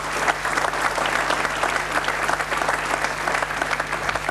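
Sustained studio audience applause fills the room at a German TV talk show, steady dense clapping throughout with no voices over it.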